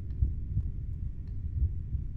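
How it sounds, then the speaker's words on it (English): Heartbeat pulses from a horror video game about a possessed sister, a couple of soft low double thumps over a droning hum. "Why is my heart beating?"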